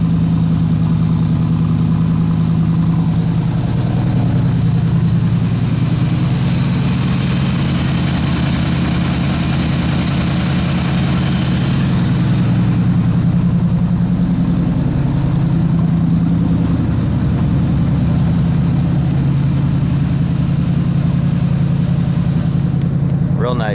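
A 1957 Chevy's carbureted engine idles after a cold start, a loud, steady low rumble running close and unbroken throughout with a slight even throb.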